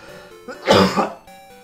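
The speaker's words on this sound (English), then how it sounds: "unexpected coughs are the worst" A single sudden cough or throat-clear bursts out at close range between quieter stretches of electronic game music from Pokemon Crystal.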